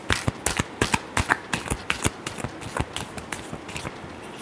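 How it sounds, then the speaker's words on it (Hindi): Tarot cards shuffled by hand in a quick, busy run of crisp flicks and riffles, close and fairly loud, with no talking. "Last shuffle."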